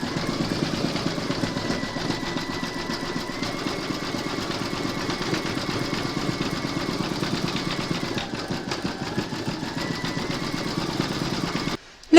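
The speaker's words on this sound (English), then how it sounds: "You can now pop your hoop into your machine and stitch round number 10, and that's going to do the satin stitching around the edge of the cherries" An embroidery machine stitches a satin border around cherries on an in-the-hoop coaster, keeping up a steady, rapid mechanical chatter that runs evenly and continuously before stopping abruptly at the end.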